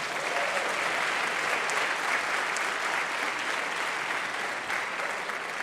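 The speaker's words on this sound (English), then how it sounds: "Let's give another round of applause." A crowd at the MEX Talks 2026 event gives another round of applause, a sustained, even wash of many hands clapping that stays steady throughout.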